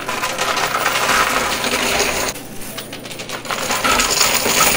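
Loud cascade of quarters tumbling and clattering in a high limit coin pusher machine as a full tower empties, a dense metallic rush that briefly eases and then surges again.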